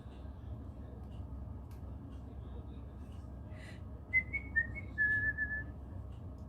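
Low background hum, then a person whistles a few short notes followed by a longer sustained tone near the end.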